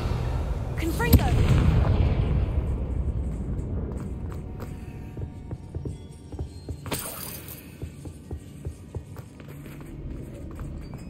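The Confringo blasting spell in Hogwarts Legacy detonates as a single loud, deep boom that rolls away into a long, rumbling decay. Scattered crackles and a second, lighter burst follow, with a voice speaking at times.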